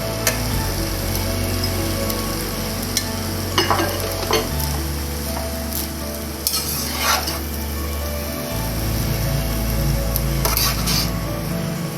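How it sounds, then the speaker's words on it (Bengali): Rice being stirred into fried masala for tomato rice in a pan, with continuous sizzling and periodic spatula scrapes and clatter against the metal, close and steady. "আমাদের মশলাটা কষানো হয়ে গেছে। এবার আমরা এতে রাইসটা ঢেলে দেব।"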